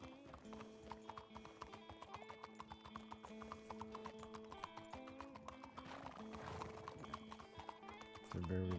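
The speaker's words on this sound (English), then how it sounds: "why is my horse around here so much?" A horse's hooves clip-clop steadily in the RedM roleplay game, a close, even rhythm of sharp hoof strikes over sustained background tones, with a louder thump near the end.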